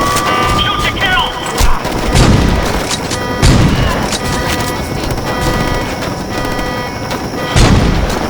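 Gunfire in the video game Saints Row 2: repeated loud gunshot bursts and booms over a busy game soundscape, with several sharp impacts standing out near the start, middle and end, and speech-like voices mixed in.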